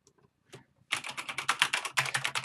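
Fast, steady typing on a Corsair K95 Platinum mechanical keyboard, close up. A couple of faint taps come first, then a dense run of crisp, loud keystrokes follows with no voices.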